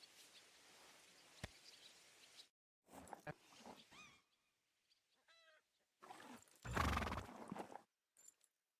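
A horse in Kingdom Come: Deliverance 2 whinnies in several bursts, with clip-clop hoofbeats in short patches between quieter gaps. The sound is close and fairly quiet overall.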